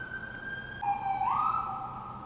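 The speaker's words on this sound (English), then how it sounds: "I'm going to wait for the siren to go away." A siren wails steadily, then sweeps up in pitch, sounding from a moderate distance outdoors with no talking.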